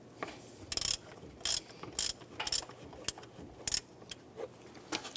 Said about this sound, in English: Using a 15mm socket and ratchet, we're going to loosen the bolt on our tensioner.